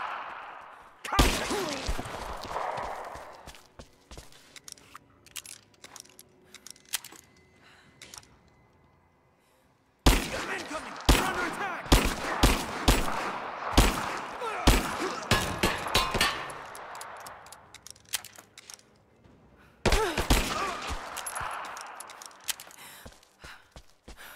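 Gunfire in the Rise of the Tomb Raider video game, a dense run of sharp broadband cracks and clatter in three loud bursts separated by brief lulls, with no talk over it.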